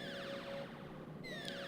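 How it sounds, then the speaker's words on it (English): Alarms blare in the Super Robot Wars L video game, a steady rising-and-falling synthetic siren wail that starts up and layers with a second sweeping tone, loud and continuous with no talking. "She gets ready to sing, and then all the alarms go off."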